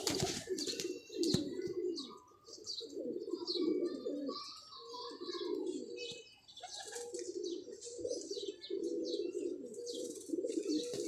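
Pigeons coo in repeated low throaty bursts, close by, with scattered chirps and faint wing rustles in between.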